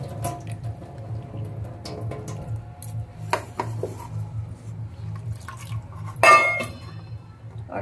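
Cut potatoes being rinsed in a bowl of water in a home kitchen: soft sloshing and dripping with scattered clinks against the bowl, a brighter splash near the end.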